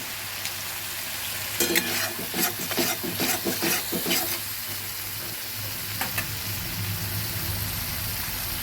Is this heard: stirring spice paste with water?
yes